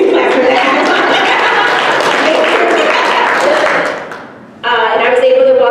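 Audience applause fills a large room, dense and steady for several seconds, fading briefly before a voice speaks over a loud, clearer burst of clapping.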